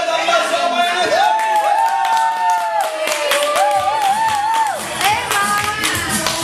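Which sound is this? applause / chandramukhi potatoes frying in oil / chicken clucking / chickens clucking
applause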